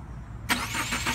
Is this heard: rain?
no